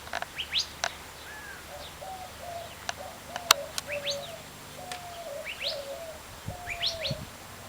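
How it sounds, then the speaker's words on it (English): A dove coos in repeated soft, low phrases against a quiet outdoor background in Arizona, with small birds chirping and tweeting in brief bursts around it. "There's a dove of some sort on the branch there."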